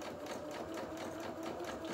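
A sewing machine back-tacks at the top and bottom of a trouser seam, its needle motor running in a steady, close, continuous whir with a fast repeating stitch rhythm and no talk.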